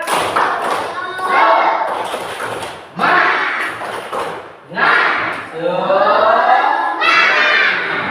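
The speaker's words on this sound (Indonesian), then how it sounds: "Biar semangat. Tepuk semangat." A classroom of students performs a rhythmic spirit clap during a lesson on sustainable living, loud bursts of patterned clapping and chanting voices in several waves, with shouting children mixed in.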